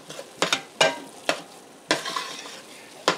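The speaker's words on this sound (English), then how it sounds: "Mix that in really well." A spoon stirs cricket chili in a pot, giving repeated scraping, clattering strokes at an irregular rhythm over a soft sizzle, close and clear, with no voices.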